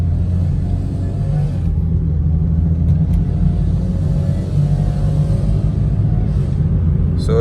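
A BMW 335i with its muffler refitted drones along under throttle from inside the cabin, a loud, steady low rumble with the pitch rising and falling slightly as it accelerates.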